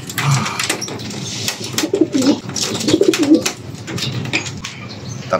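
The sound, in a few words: racing pigeons cooing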